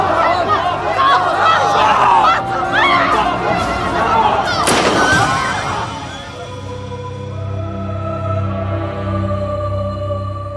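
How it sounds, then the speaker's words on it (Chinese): One loud, sharp gunshot rings out midway through a tense crowd scene in a Chinese period TV drama, surrounded by agitated shouting and babble, with sustained tones lingering afterward. "廖春风，你还真敢开枪啊！"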